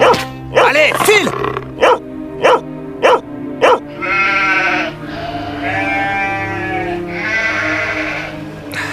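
Sheep and lambs bleat on a farm, first a rapid series of sharp separate calls, then longer wavering cries, loud and close, with a voice heard speaking among them.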